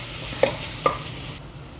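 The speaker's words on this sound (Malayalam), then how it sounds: "എന്നിട്ട് ഫ്ലെയിം കൂട്ടിയിട്ട് സോട്ടേ ഇറ്റ് നൈസ്ലി." Onion and garlic sauté in a pan over a raised flame, giving a steady sizzle marked by two brief utensil clacks before the sound cuts off abruptly.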